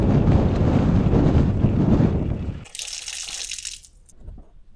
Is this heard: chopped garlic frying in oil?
no